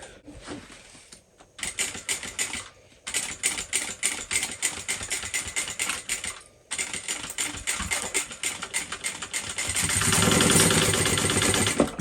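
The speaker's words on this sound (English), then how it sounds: "it's time to sew this up" A sewing machine stitches a Sunshine Crossbody bag from Bagstock Designs, running in fast, steady bursts broken by a few short pauses, close and clear with no talking.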